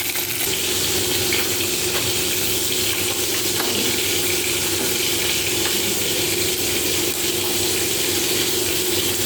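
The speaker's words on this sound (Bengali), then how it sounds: "আর তারপর আমি মাছগুলোকে ভালো করে লাল লাল করে ভেজে নেব।" Fish rubbed with turmeric and salt frying in hot oil in a wok, a steady, loud broadband sizzle running the whole time with faint scraping and water-like hiss, no talking.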